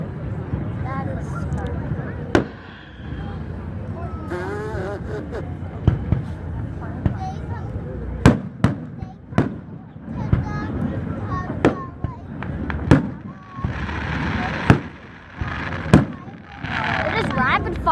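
Fireworks bursting in rapid fire, a string of sharp cracks and booms spaced a second or two apart and quickening toward the end, with people talking and exclaiming throughout.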